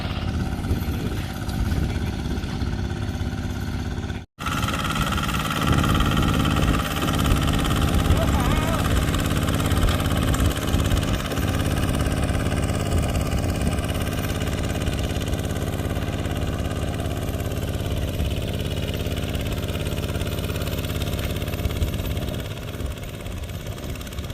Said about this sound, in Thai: ก็วันนี้ก็พามาดูรถไถเดินตามตามเคยนะครับปัดโรตารี่เนาะอันนี้เป็นแปลงแห้งนะครับ